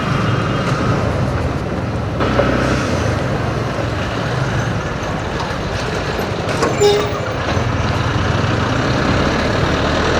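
A new Yamaha motorcycle runs after servicing, its engine a steady rumbling drone that mixes with road and wind noise while riding, loud and continuous with no pause.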